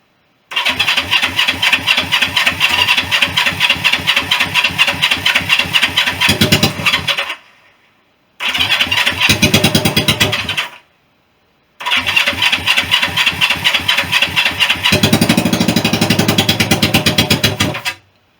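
A Honda CB350 motorcycle engine with the choke on cranks and fires in three loud, close bursts of rapid chugging, separated by short silences, with the last run catching and revving rougher before cutting out.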